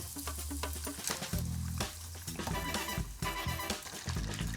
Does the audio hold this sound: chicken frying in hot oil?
yes